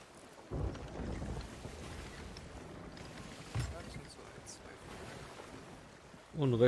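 Stormy weather at sea in the Sea of Thieves game: rumbling thunder and rain with wind and creaking boat sounds, heavy low booms near the start and middle, with people talking over it.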